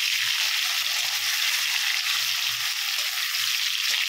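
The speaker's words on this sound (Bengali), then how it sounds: "চিংড়ি মাছগুলোকে আমি হালকা আঁচে একটু হলুদ পালট করে ভাজা করে নেব" Prawns fry in mustard oil over low heat, producing a dense, even hiss of sizzling that stays steady throughout, close to the pan and moderately loud, with no voices.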